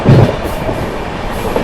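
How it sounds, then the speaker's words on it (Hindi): The Jharkhand Sampark Kranti Express runs at speed through Etawah Junction without stopping. Loud, close rumble comes with rhythmic clickety-clack of wheels over rail joints and a heavy thump at the start. "यहाँ पर अपनी ट्रेन ने जो है इटावा जंक्शन को स्किप कर दिया काफ़ी अच्छी रफ्तार में"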